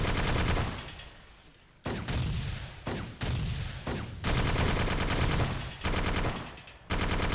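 Sustained automatic gunfire from Arma 2 comes loud and close in long bursts, cut by several short breaks before the shooting resumes.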